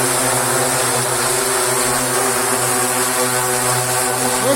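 A SIYI D6 drone propulsion system, with its motor and propellers running in flight, gives off a loud, steady whine and buzz that holds on without a break and carries no talk.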